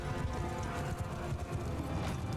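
Many hooves pound in a steady, dense galloping rhythm in the video game Mount & Blade II: Bannerlord, a continuous thunder of horses running at moderate volume.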